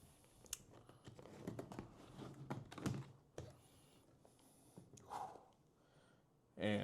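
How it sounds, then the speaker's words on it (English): A Glock 19X pistol box from an Agency Arms build is opened with soft thunks, clicks and rustling handling noises, close and quiet, in irregular bursts with a louder knock at the end. "So we're gonna go ahead and open it up here."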